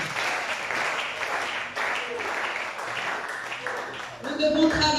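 A church congregation applauding, with continuous clapping from many hands through most of the moment, under a voice that cuts in near the end.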